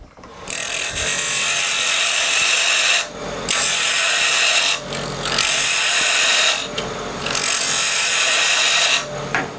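Purple heart wood handle spinning on a wood lathe as a tenon is cut, giving loud continuous bursts of bright scraping and hissing that break off briefly between cuts, with no talking.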